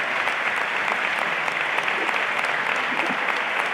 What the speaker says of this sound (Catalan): Este aplaudiment que sents és per a tu